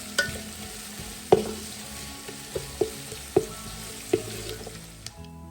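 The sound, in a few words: onions frying in a pan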